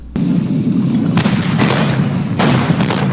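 A cannon fires in the Lego Pirates of the Caribbean video game, producing a loud, sustained booming blast that rumbles steadily for several seconds, with no voices.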